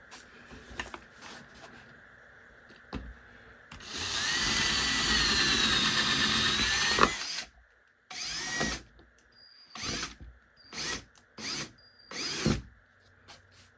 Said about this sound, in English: I can go ahead and drill the rest of these